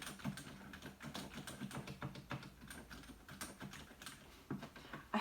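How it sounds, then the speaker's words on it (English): Continuous typing on a Ducky One 2 TKL keyboard fitted with Cherry MX Silent Red linear switches, a steady patter of soft, muted keystrokes close up with no voices. "As I'm typing it, it does not feel clicky at all. It feels linear,"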